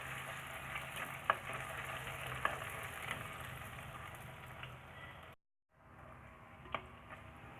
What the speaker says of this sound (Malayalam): അതിലേക്ക് ചെറുതായി അരിഞ്ഞു വെച്ച ചെറിയ ഉള്ളി അത് നമുക്കിതിലേക്ക് ഇട്ട് കൊടുക്കാം. നന്നായിട്ടൊന്ന് മൂപ്പിച്ചെടുക്കാം.